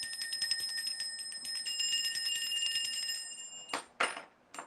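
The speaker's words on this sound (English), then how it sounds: "Let's ring a bell for faith." A small bell rung repeatedly, with bright sustained ringing tones that overlap and linger for several seconds before a few louder knocks and rustles at the end.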